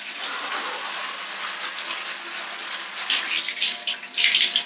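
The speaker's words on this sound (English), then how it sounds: "I'm probably going to have to use the shower." An indoor shower runs with a steady, close hiss of falling water that grows slightly louder toward the end, with no talking.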